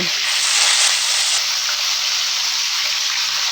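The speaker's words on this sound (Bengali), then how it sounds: "আমি একই নিয়মে আরও দুই পিস করে ফ্রাই করে নেব" Chicken pieces for a roast sizzle loudly in hot oil in a pan, a steady close hiss that stays dense and unbroken throughout.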